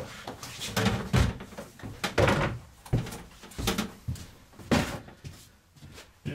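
Drawers are pulled out of a camper cabinet in a series of wooden knocks, thuds and rattles, irregular and moderately close, with no talk.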